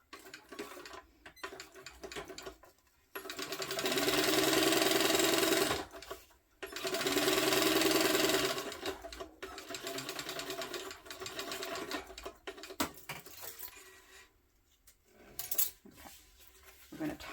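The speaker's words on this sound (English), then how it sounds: "We're going to top stitch that." A sewing machine top stitches a tote bag, running in two steady whirring stretches with brief stops, then slower intermittent stitching and small clicks nearby.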